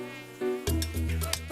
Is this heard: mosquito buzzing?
yes